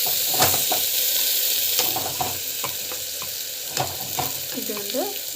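Onions sautéing with garlic and asafoetida in a pan for village-style drumstick thokku, a steady close sizzle and fry hiss broken by scraping ladle stirs and a few light utensil clinks, with no talking.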